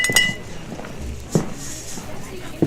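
Glasses clink together in a toast as part of a radio drama scene, a few bright taps scattered across the moment amid faint room noise and background voices.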